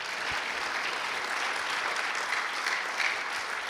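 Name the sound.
church congregation applause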